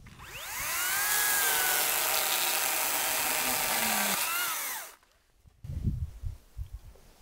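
A Makita 40V MUC008GDR cordless chainsaw cutting through wood: a loud whining motor that rises as the chain bites, runs steadily for about four seconds, then winds down, followed by a few dull knocks of wood.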